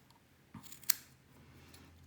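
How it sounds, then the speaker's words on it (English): Scissors trim cotton wicks for a coil build on a GeekVape Radar RDA, with a single crisp, close snip after a soft handling rustle, then quiet. "Then I'll trim them again."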